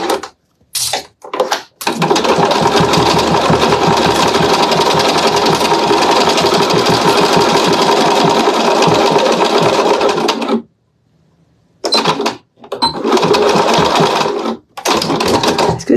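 A sewing machine stitches through thick layers of fabric for a zipped pouch, a loud, close, rapid whirring run that stops and starts in short bursts.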